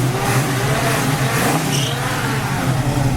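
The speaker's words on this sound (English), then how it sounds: "powered by a awesome sounding 400 Pontiac engine, cammed up, just a beautiful running 400 in it. Nice sounding dual exhaust." A 1979 Pontiac Trans Am with a cammed 400 Pontiac engine, Hooker headers and dual exhaust holds a steady, loud, rough rumble close by.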